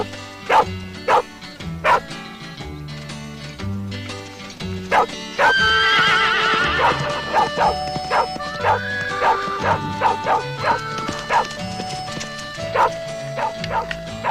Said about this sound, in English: What the devil are all these horses doing way out here?